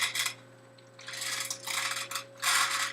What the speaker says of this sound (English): You pour the kernels in.